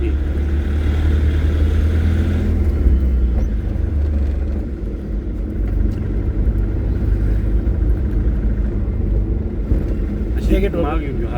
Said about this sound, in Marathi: हां ती रिक्षा लागली बाई उजव्या साईडला